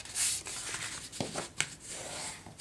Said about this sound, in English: Give it a burnish